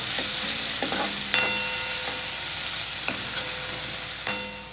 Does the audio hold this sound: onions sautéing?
yes